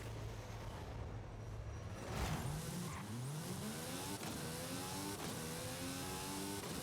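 Race cars in Forza Horizon 5 on the Eagle Forest Raceway roar through repeated upshifts and downshifts, a steady loud engine note rising and falling as the car accelerates, with other cars audible around it.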